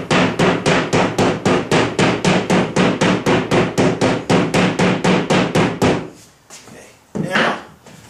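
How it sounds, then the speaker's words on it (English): Rubber mallet tapping drywall held over an electrical switch box, a rapid, even series of about twenty-five close, solid thuds that stops abruptly, followed by a couple of faint handling knocks. "Using a rubber mallet, you're going to apply pressure and tap."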